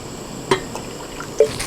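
A little water goes into a hot 12-ounce steel mug at a campsite, heard as two small, distinct splashes about a second apart over quiet background noise.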